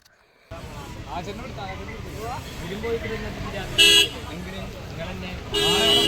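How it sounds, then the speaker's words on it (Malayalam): Short car horn toots sound twice over busy traffic noise, with people talking nearby. "എടാ ഹോൺ അടിക്കണേ"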